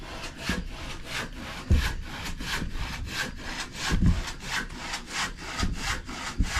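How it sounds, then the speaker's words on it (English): An old blunt hand saw cuts through an old wooden stair tread in steady back-and-forth strokes, each stroke a loud, rasping rush. The rhythm is regular and nearby, with a few heavier knocks along the way. "How do you feel about that sawing? Well, this is an old blunt one."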